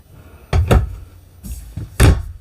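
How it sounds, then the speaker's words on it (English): Ball-bearing drawers in an RV slide open and shut, giving a few soft rolling thumps and clacks close by, with no talk over them. "Nice smooth ball bearing drawers."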